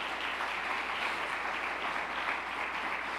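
A church congregation claps together in a dense, even stream of hand claps, continuous and fairly loud with no talk over it.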